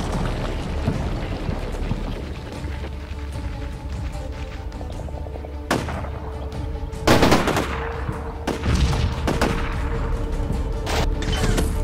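Gunfire in the Combat Mission Shock Force 2 video game during a Syrian defense against American marines: sustained machine-gun bursts and scattered rifle shots with heavy booming impacts, loud and continuous throughout.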